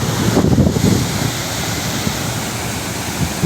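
A waterfall pours down in a steady, loud, rushing roar, with gusts of wind buffeting the microphone through it.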